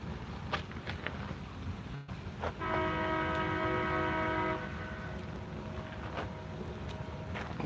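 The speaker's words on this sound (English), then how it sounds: "Here comes the train." A passing train sounds a sustained horn chord for about two seconds over a steady rumbling background, heard from outdoors at a fishing spot, moderately distant and without speech.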